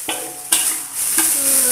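Spice paste for chicken gulai being stirred and sautéed in a pan: continuous bright sizzling, broken by three sharp spatula scrapes against the pan, close and without talk.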